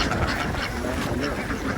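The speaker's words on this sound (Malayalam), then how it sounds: "ഇത് കുട്ടനാടൻ താറാവാ." A large flock of Kuttanad ducks in Alappuzha, Kerala, quacks in a dense, continuous chorus of overlapping calls, loud and near, with no pause throughout.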